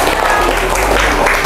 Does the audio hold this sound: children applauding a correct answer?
yes